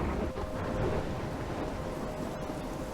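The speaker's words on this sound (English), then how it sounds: "I'm trapped in a storm?" Continuous rain and rumbling thunderstorm ambience from the video game Life Is Strange, a dense steady wash of sound with no speech over it.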